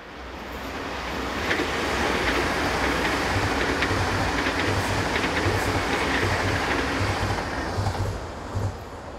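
Class 503 electric unit number 022 runs south as Eurocity EC37 from Geneva to Milan, passing close and loud with a steady roar and a rhythmic clickety-clack of wheels over rail joints throughout.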